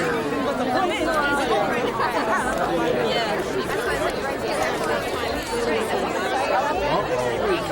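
Dense crowd chatter fills the space, many overlapping voices murmuring and talking at once, loud and steady throughout.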